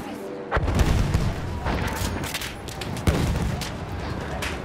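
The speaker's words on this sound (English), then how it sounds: "you can aim where you want to put it, and then click it, and then you'll launch the mortar in that direction" A mortar launches in the video game Battlefield as a deep boom at the start, with a second thump about two and a half seconds later, over continuous rumbling battlefield noise and distant gunfire.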